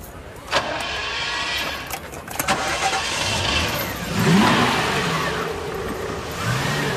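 A car engine runs steadily as the vehicle pulls away, a continuous mid-pitched hum that swells slightly partway through, with faint voices underneath.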